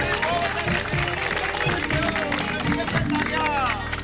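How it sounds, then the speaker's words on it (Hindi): Residents of a housing society clap loudly together as a crowd, a dense steady applause mixed with cheering and babble of voices that fills the whole stretch. "इसलिए आप सब अपने लिए जोरदार ताली बजाइए।"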